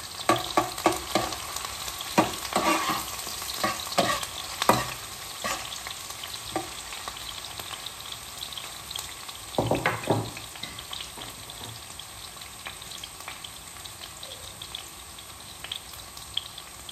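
Onions sautéing in a pan, a steady close sizzle broken by scattered clicks and scraping stir strokes, with a brief louder clatter midway.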